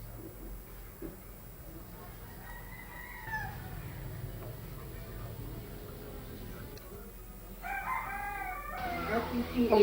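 A rooster crows from behind a house, giving a few drawn-out calls at moderate distance over a steady ambient background, with a louder, closer burst near the end.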